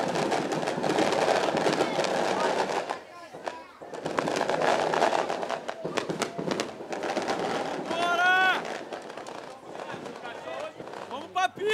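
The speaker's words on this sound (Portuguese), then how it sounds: "Tem mais fogos do que ano novo." Fireworks go off during a Batebola carnival celebration in a Brazilian community, with bursts of crackling pops and bangs coming in clusters, mixed with people talking and crowd noise.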